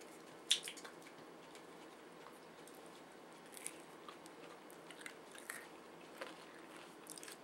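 Soft, close chewing and crunching of candy-kit fries from a Kracie Happy Kitchen hamburger set, quiet intermittent bites with small clicks, no talking.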